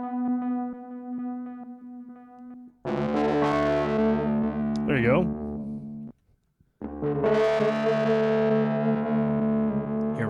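Electric guitar chords played through a pedal set to a square-wave panning tremolo that swaps the signal hard between left and right, loud and distorted, with a short pause midway and a brief spoken phrase.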